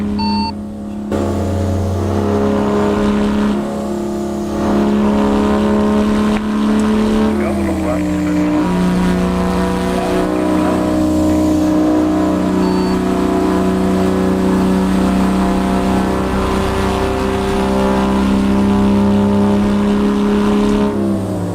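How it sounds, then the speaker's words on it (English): A heavy truck engine in American Truck Simulator drones steadily throughout, a loud continuous low rumble that shifts pitch slightly with load, with people talking over it. "Oh, it's a great sounding engine. I like it."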